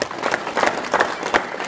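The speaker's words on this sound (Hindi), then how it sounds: "एक बार तालियों से स्वागत करें।" Applause from an audience in a village gathering honoring a farmer from Balambha village in Maham who led in the farmers' protest, with several bursts of clapping over about two seconds.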